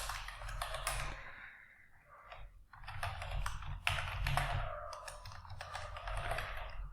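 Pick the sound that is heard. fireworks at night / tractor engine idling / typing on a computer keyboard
typing on a computer keyboard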